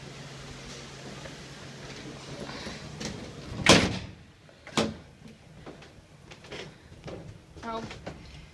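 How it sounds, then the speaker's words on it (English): Manual door of an antique 1915 Otis bottom-drive traction elevator in a mall in DeWitt, New York: a loud clattering slide and bang, then another knock and lighter rattles, with someone talking nearby. "It has a manual door."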